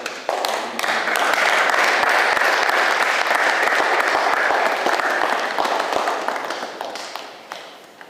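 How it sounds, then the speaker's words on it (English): Audience at a congressional briefing bursting into sustained applause, a dense wash of many clapping hands with sharp individual claps poking through, building quickly, holding steady for several seconds, then thinning out and fading toward the end. "Please, can we give a hand of applause?"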